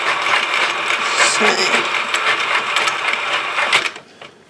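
A Sentro 40-needle knitting machine being cranked around, a close, continuous mechanical whirring and clicking that runs for about four seconds before stopping.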